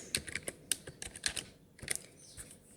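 Java code is typed on a computer keyboard in a quiet room, giving a close, irregular run of crisp key clicks in quick bursts with short pauses between them.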